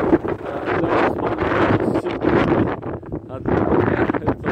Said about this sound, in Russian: Потому что ветер вообще не прекращается. Дует все.